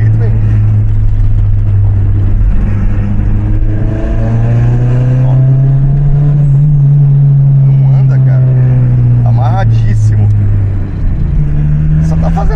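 VW Parati 1.8 turbo car engine revving with slow turbo response, a loud steady drone that rises in pitch around the middle and falls again, close up throughout, with no talking over it.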